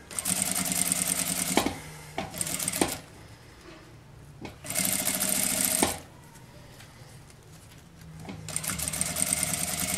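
A sewing machine stitching bias tape around a fabric charger and earphone holder, running in three bursts of steady whirring separated by quiet pauses, close and clear.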